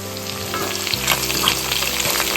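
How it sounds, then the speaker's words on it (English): Crushed garlic cloves, still in their skins, sizzle in a hot pan with oil while being stirred briefly, giving close, steady frying hiss with scraping stir sounds and no talking. "cloves of crushed garlic with skin. Give it a quick stir again."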